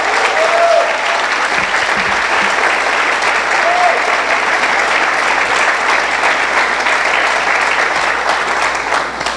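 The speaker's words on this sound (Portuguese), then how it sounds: "Vamos dar um aplauso para o pastor Samuel," A church congregation applauds its pastor and pastora, the loud, dense clapping running continuously for several seconds with a few faint voices mixed into the crowd.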